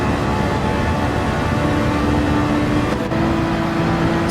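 Racing cars in Gran Turismo 7 drone loudly and steadily, a Ferrari and a Honda among them on the second lap, with a sustained engine hum and a rising pitched whine and no talk.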